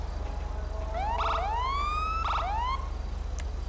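A police car siren in the GTA V video game wails in two rising sweeps with pulsing bursts, loud and close over a steady low engine hum, with no talk.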